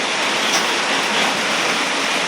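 Rain pours steadily on an island as a dense, loud, unbroken hiss of falling water close by, with no voices.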